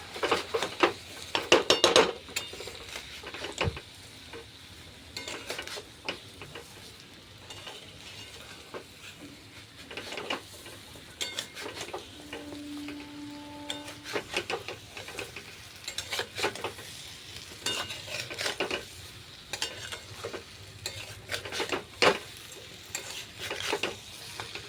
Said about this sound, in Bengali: চিনিটা আস্তে আস্তে ভেজে নিতে হবে, গলে যাবে।